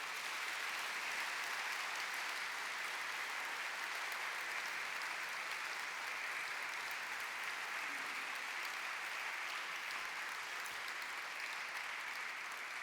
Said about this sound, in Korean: 총회장님께서 악수례로 환영하실 때 우리 함께 박수로 환영하겠습니다.